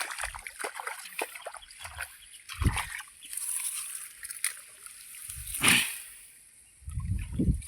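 Water splashes and sloshes through a breach cut in an earthen bund at a fish pond in rural Konkan. The sound comes in short, uneven bursts with quieter trickling between them, and no one speaks.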